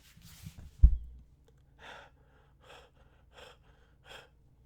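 A person demonstrates shallow chest and mouth breathing: one sharp gasping inhale near the start, followed by four quiet, evenly spaced breaths, close and soft, with no talking.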